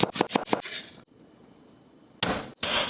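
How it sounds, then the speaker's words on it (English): Knife chopping onion on a cutting board, a quick run of four sharp close chops in a row, then a pause of quiet, followed by two louder scraping strokes. "Cut the onion,"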